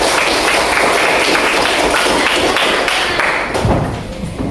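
Schoolchildren in a classroom clap their hands together in a loud, close burst of quick, overlapping claps with some thumps, fading out near the end.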